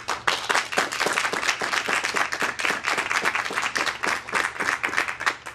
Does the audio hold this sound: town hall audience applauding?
yes